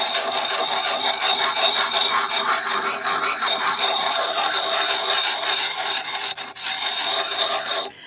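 A coarse stone is rubbed along the edge of a homemade metal fleshing tool for scraping deer hides, producing a loud, continuous close rasping with a brief dip near the end.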